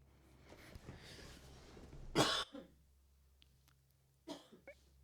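A single sharp cough rings out close by against a quiet restaurant, followed later by a softer second cough.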